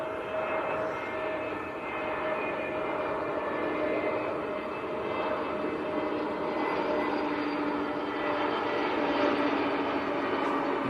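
EasyJet Airbus A320neo arriving from Nice and touching down at Manchester Airport, a steady broad engine roar with a faint whine heard from a distance, continuous throughout.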